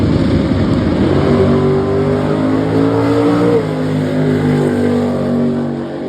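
Chevrolet S10 drag car at Gulfport Dragway launching hard and lifting into a wheel stand, a loud roaring engine note climbing steeply in pitch, then holding and easing off.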